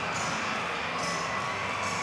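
Ice hockey arena crowd cheering and roaring after a fight on the ice in an Atlanta Gladiators versus Jacksonville Icemen game, a dense, steady wash of crowd noise with no clear talk.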